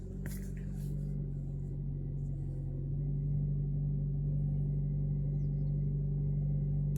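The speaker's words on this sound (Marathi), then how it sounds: "गाडी चालू केली आता मी." A car's engine idles steadily after starting, a constant low rumble with a faint hum that holds throughout, preceded by a couple of brief clicks or knocks at the very beginning.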